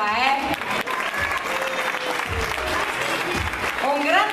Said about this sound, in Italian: Un grande applauso anche per questi atleti.